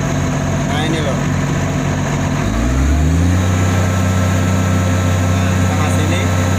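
Komatsu D85-3 bulldozer diesel engine running steadily, with a low rumble that shifts and settles into a stronger, even drone partway through; loud and continuous, with no talk.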